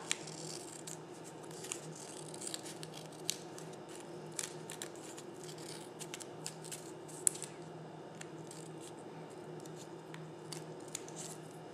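Scissors snip through paper straws in a quiet room, a series of small sharp cuts at irregular intervals along a soft steady background, with no voices.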